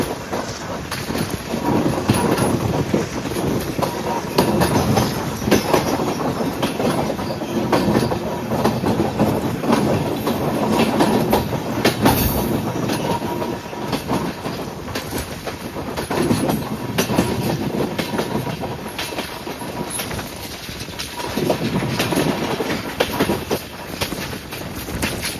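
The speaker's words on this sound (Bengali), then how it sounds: "সুন্দর যাচ্ছে কিন্তু আমাদের ট্রেনটা।" The Sairang–Kolkata Express runs along its rails over a river, its steady clickety-clack of wheels and a continuous rumble filling the scene without pause, close and loud throughout.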